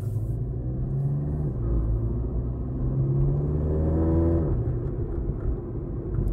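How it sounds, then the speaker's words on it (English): A Volkswagen GTI Mk7 engine hums at low speed as the car drives around a parking lot, a steady low rumble with gentle rises in pitch as it picks up speed. "we're going to take this car and we're going to drive it around the parking lot"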